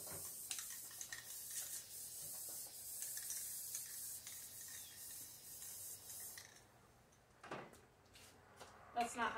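An aerosol can of spray paint hisses in long, close bursts for several seconds, then goes quiet, followed by a few short sprays and clatters.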